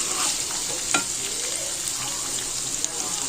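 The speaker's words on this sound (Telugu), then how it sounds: "పీస్ కూడా ఎంత బాగా ఫ్రై అయిపోయిందో చూడండి." Chicken pieces frying in a pan give a steady, close sizzle and bubbling, with a brief stir or clink near the start and no talking.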